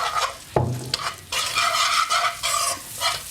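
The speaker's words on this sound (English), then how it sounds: "Now we're just going to fry our crumbs in this." Breadcrumbs frying in a pan for a parsley and bacon crumb topping: close, lively sizzling and crackling with a scraping stir near the start, continuous throughout.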